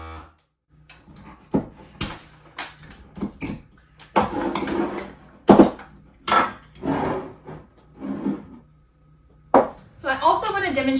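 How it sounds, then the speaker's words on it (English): Metal lids clink and knock onto glass jars of potatoes in a row of sharp, close taps and rattles, with a person talking between and over them. "We're going to put some lids on."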